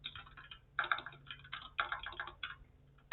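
Rapid bursts of keystrokes on a computer keyboard, close and fairly quiet, with short pauses between groups of clicks.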